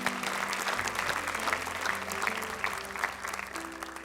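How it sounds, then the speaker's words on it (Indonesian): A television studio audience breaks into steady applause, dense clapping that holds evenly from start to finish at moderate distance, with faint background tones under it. "Tepuk tangan untuk mereka semua."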